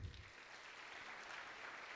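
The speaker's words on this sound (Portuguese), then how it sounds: "Você pode aplaudir Jesus?" Church congregation applauding during a sermon at a family conference, a steady wash of clapping from many hands that holds evenly throughout.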